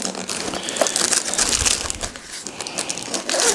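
Plastic packaging crinkles and rustles loudly and continuously as Bundeswehr chocolate is packed into a food bag while a backpack is readied for a winter overnight trip, with no talking.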